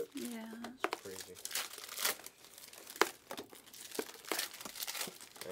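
Packs of 2022-23 Panini Revolution NBA hobby trading cards are torn open with crinkling, ripping foil wrappers close by, in repeated bursts while people talk over the sound.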